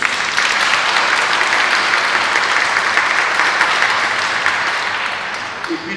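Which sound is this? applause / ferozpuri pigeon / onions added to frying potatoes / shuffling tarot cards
applause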